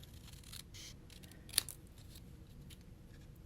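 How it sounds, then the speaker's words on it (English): A single quick snip of scissors trimming something small, faint and close against a quiet background. "I'm just going to do it with my scissors."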